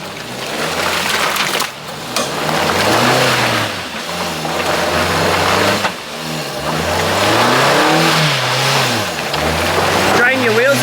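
An off-road 4WD vehicle grinds through mud with its engine revving hard in repeated rising and falling surges, loud and close, while people shout and talk over it.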